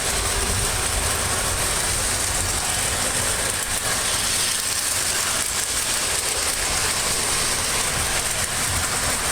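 A prewar Lionel toy electric train runs steadily along its track, a continuous whirring rumble with faint clicking from the rails, close and unchanging throughout.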